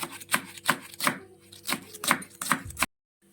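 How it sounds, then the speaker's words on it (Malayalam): A knife finely chops green chilies in quick rhythmic strikes, about eight close, crisp taps against a surface, before stopping abruptly into silence. "പച്ചമുളകും ഇങ്ങനെ ചെറുതായിട്ട് അരിഞ്ഞെടുക്കാം കേട്ടോ ചെറിയ ചോപ്പായിട്ട്"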